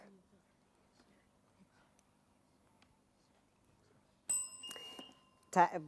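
A quiz contest answer bell at a primary school competition rings once with a sharp, ringing tone that breaks a quiet, hushed room, and a voice speaks close just after it.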